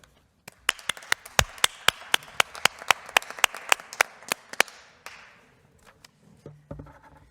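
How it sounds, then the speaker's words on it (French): A handful of people clap for social workers during a French departmental council session: a few seconds of sharp, separate close claps in a quick irregular rhythm, thinning out into scattered last claps and a brief rustle. "Je pense même que nous pourrions les applaudir pour tout ce qu'ils font au quotidien."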